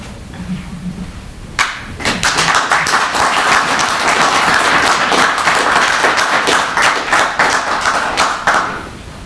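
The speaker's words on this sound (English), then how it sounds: "So that applause is for everyone." After a poetry reading on a library patio, a quiet moment gives way to a sudden burst of close, crisp hand claps that swell into sustained applause, then taper off near the end.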